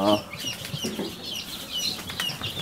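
Newly hatched chicks just moved from the incubator into a new brooder, a busy chorus of high thin peeps and chirps close by, continuous over a soft background rustle.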